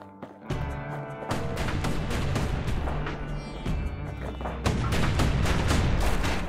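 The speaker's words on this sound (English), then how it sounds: "So the bullets reflect back at the enemies." Dense, continuous gunfire and impacts from bullets ricocheting back at enemies in the action game Bastion, loud and busy throughout, with several sharp bursts layered over a steady rumble of combat.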